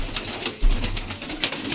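Pigeons coo at a rooftop pigeon stand in Gujranwala, a few soft repeated coos rising close by against an open outdoor background, with no talking.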